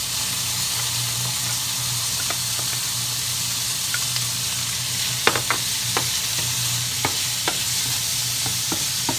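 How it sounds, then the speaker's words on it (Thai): Squid and shrimp stir-fry in a hot pan with a steady, loud sizzle throughout, broken by scattered scraping and clinking strokes of a utensil stirring the seafood. "หอมได้ที่ก็ใส่ปลาหมึกกุ้งนะคะลงไปผัด"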